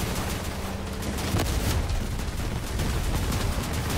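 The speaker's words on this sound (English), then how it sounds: "let's shoot a couple of rockets at this guy" Rockets launch in a combat video game amid dense, continuous booming and rattling gunfire, loud and unbroken throughout.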